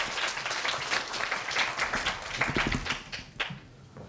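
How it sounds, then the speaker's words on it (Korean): An audience at a school speech event applauding, a dense burst of clapping from many hands that thins out toward the end, moderately close. "오래 기다린 만큼 큰 박수 부탁드리겠습니다."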